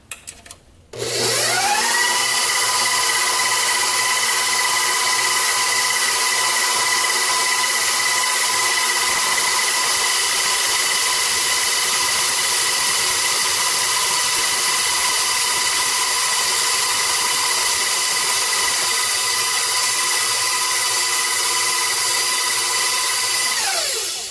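An electric stand mixer whirs continuously and loudly while cubes of butter are dropped into swiss meringue, a steady high motor whine from start to finish with no talking.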